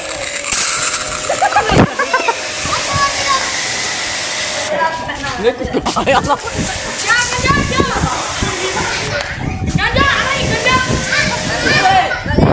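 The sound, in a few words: water from a pipe flowing while washing a roof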